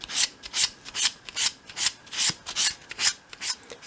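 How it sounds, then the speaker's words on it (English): A small wooden dollhouse desk piece is sanded by hand with fine grade sandpaper, giving a steady rhythm of about ten close, raspy back-and-forth strokes with no voices. "You can then tidy that piece up in your hand with a piece of fine grade sandpaper."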